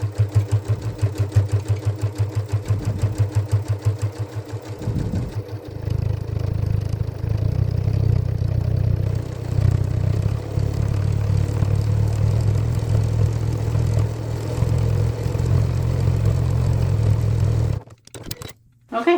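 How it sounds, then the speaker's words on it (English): A sewing machine runs a steady quarter-inch seam around a fabric witch hat at a longer stitch length, whirring loudly and continuously up close for most of the stretch before stopping near the end. "I'm just gonna do a 1/4 inch seam allowance and go all the way around"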